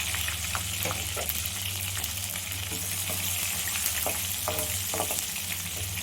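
Chopped garlic and ginger fry in a pan with a dense, steady crackling sizzle, close and fairly loud, broken by occasional stirring clicks and scrapes from a spoon; a low hum runs underneath and nobody speaks.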